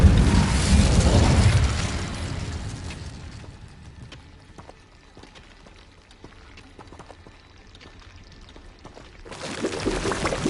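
Incendio fire spell cast in the game Hogwarts Legacy, a loud whooshing burst of flame that swells at the start, fades into a low crackle, then flares again near the end.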